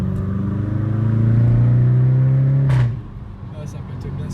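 Seat Ibiza Cupra 1.4 with 180 hp revs loudly in third gear, a steady engine drone rising then cutting off sharply with a short crackle from the exhaust, followed by quieter idling, recorded from inside the car.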